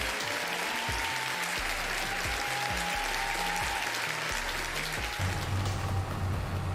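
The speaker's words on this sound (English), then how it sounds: "Big round of applause to Rabbit Rob." Sustained applause from a crowd, dense steady clapping filling the whole stretch, loud and continuous with a slight swell near the end.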